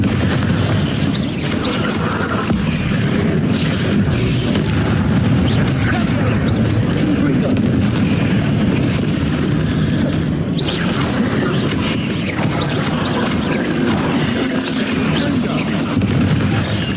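The Bombarda blasting spell goes off in Hogwarts Legacy: loud, rumbling booms and bursts of explosive noise roll on continuously, thick and dense throughout.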